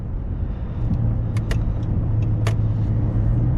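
A 2013 Chrysler 300 Touring cruises on a sunny road, its steady low engine and road rumble filling the cabin, with a few faint clicks and taps over the drone.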